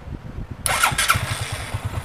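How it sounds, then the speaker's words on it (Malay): A KRISS 110 motorcycle with an upgraded YTZ6 battery starts on the first try and settles into a steady, close idle, with low rhythmic engine pulses continuing after a sharp starting burst. "So kita boleh dengar sikit bunyi enjin dia."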